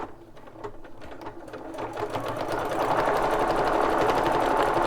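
A sewing machine stitches decorative patterns onto a jelly roll cover for a junk journal, starting softly and building into a steady, loud, continuous mechanical whir close up.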